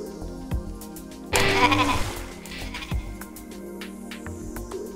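A sheep in a video game gives one clear bleat over looping game music and scattered ticks and thumps.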